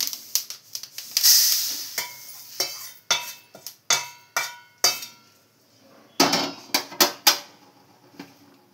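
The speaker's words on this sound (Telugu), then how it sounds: "నువ్వులు వేపుదాము, నల్ల నువ్వులు." Black sesame seeds dry roasting in a pan while being stirred, a series of rhythmic scraping and clinking strokes of a utensil against the metal pan, close and moderately loud, with light crackling between strokes.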